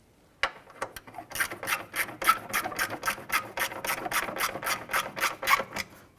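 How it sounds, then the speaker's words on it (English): Bolts are snugged down on the plastic upper radiator support of a 2012-2017 Toyota Camry, a quick rhythmic series of ratcheting clicks with a rasping edge, close and fairly loud, without talking. "Go ahead and snug down these bolts"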